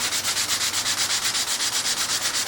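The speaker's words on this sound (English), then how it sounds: "what would happen if we took away all of the cross grain work and I just sanded with the grain?" Sanding wood along the grain by hand, a steady rhythmic scratchy rasp of about five strokes per second, close and continuous with no talking.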